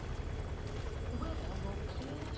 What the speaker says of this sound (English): Is that why the helicopter's hovering low? Because of the weather?